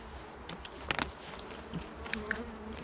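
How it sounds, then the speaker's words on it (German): Honey bees at a hive on a November apiary, a steady low buzz with a few louder close passes of individual bees, no talking. "So, jetzt haben wir hier unsere Bienen."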